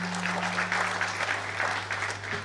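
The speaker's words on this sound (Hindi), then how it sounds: "मैं चाहती हूँ कि आप सभी उनका स्वागत जोरदार तालियों से करें।" An audience claps steadily to welcome a student speaker at a university Independence Day 2022 ceremony. The brief burst of applause sits over a constant low electrical hum from the sound system.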